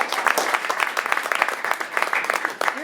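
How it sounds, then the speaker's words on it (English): A small group claps together after a team huddle, a brief burst of quick, close applause that holds steady for about three seconds. "Give yourselves a round of applause for conducting a huddle."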